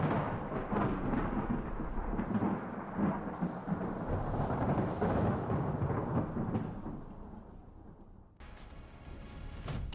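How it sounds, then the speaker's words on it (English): Loud cartoon thunder rolls as a long, deep rumble that swells and then slowly fades. There is no talking over it. "That thunder was really loud!"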